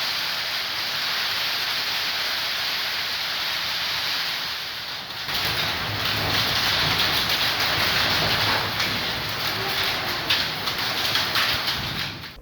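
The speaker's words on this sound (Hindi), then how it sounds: "दोपहर बाद जिले में कई जगह बारिश हुई।" Steady rain falling over Buldhana district in the afternoon, a broad continuous hiss that grows denser and louder after the first few seconds, with faint bird calls in the background.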